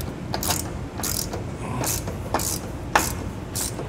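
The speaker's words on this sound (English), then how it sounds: "using an 18 millimeter socket, I'm going to go ahead and get these tightened down" Ratchet with an 18 mm socket tightening the bolts of a Westin HDX grille guard with punch plate on a 2020 Ford F-250, giving quick bursts of clicking strokes with short pauses between them.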